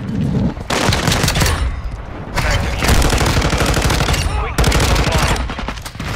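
Loud, dense automatic gunfire from Call of Duty Modern Warfare II multiplayer, sustained bursts of rapid shots nearly filling the stretch with only brief gaps, plus a short in-game voice line.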